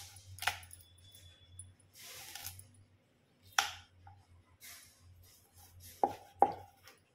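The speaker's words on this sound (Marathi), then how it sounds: "हे असे आपल्याला लांब लांब फोडी ही चिरून घ्यायची आहे." A knife chops ridge gourd into long pieces on a board, a few separate sharp chops and clicks spaced out with quiet gaps between them.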